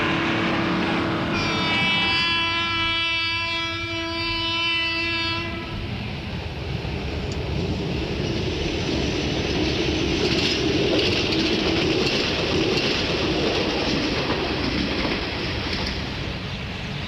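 A heavy log train of about 35 wagons, each carrying around 30 tons of logs bound for a mill in New Zealand's plateau forests, sounds a long steady horn blast, then rumbles past with continuous clattering wheel noise.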